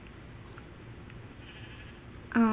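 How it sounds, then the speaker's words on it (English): Minecraft sheep bleat once, loud and close near the end, after a quiet stretch of low game ambience. "I saw sheep, and it's coming with me."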